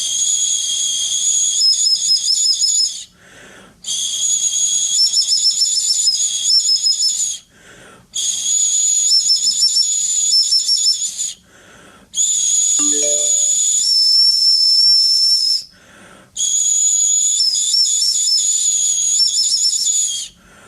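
Shrill, breathy tones of an ancient bird bone flute play in five long sustained phrases separated by brief pauses, loud and airy with a hissing edge.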